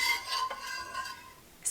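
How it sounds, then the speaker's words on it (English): Whisking hot cocoa made with Nutella in a pot, a metal whisk scraping and stirring briskly for a second or two, close and fairly quiet, no talking. "make sure you really have it whisked up"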